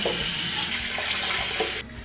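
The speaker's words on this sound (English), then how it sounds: "I like to rinse out my blender" Tap water runs steadily into a blender jar being rinsed out at a kitchen sink, a close, continuous splashing rush that cuts off just before the end.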